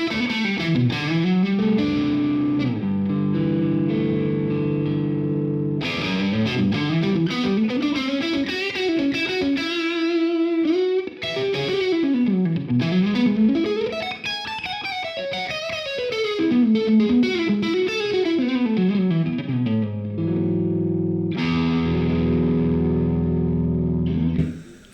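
Electric guitar on the neck pickup at full volume through a Carl Martin PlexiRanger distortion pedal, a sustained overdriven melodic lead with bends and slides, thick and saturated with some ambience, no talking.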